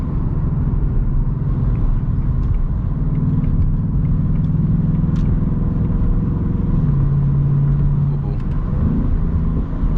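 A 2024 Ford Mustang GT engine gives a deep, steady rumble, idling and revving gently throughout, low and continuous, with no other sounds standing out.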